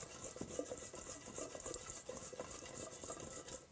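Seasoned food being tossed in a bowl, a soft continuous rustling patter with light scraping and occasional clinks, faint and close, with no talk.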